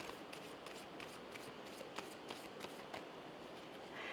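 Angel cards being shuffled by hand for a card reading, a steady run of soft riffling and tapping flicks that continues for several seconds, close and moderately quiet, with no talking.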